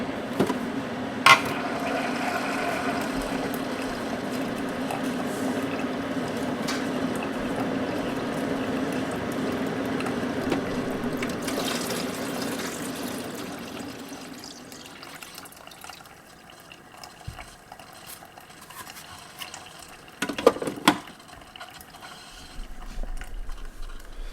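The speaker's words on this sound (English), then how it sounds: "I gotta put some water in the coffee pot." Water runs from a tap into a coffee pot in a home kitchen, a steady gushing pour for about fifteen seconds, then quieter handling clinks and a brief splash.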